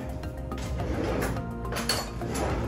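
A metal spoon scrapes the seeds out of a halved spaghetti squash, giving a steady close run of scraping with faint clinks and no talking.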